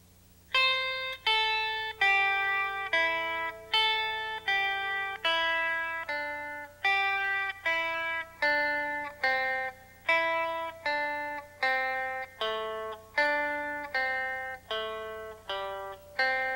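An electric guitar with effects plays a country scale note by note in an even, steady rhythm, each plucked tone ringing briefly before the next, close and clean without any voice.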